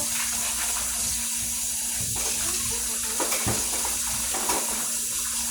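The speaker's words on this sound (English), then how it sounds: "Alright, I'm rinsing this out." A dish is rinsed under a running kitchen tap, giving a steady close rush of flowing water with a low hum beneath it and a few soft splashes and knocks, with no talking.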